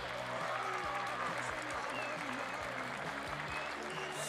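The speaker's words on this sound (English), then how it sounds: "how about a big round of applause for all the skateboarding you've seen today?" Crowd applause for skateboarders at an outdoor concrete skatepark competition, steady clapping mixed with a low rumbling hum and some voices throughout, fairly quiet and distant.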